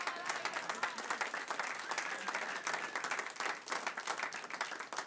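Steady audience applause fills the whole stretch, a dense patter of many hands clapping at even loudness with no voices breaking through, heard during a church sermon.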